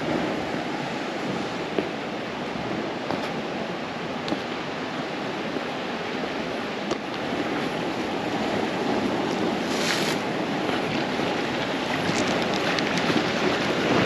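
Rough sea surging against the rocky coast at Dubrovnik, Croatia, after a day of bad weather, a continuous broadband wash of breaking waves with wind noise, steady and moderately loud, no voices.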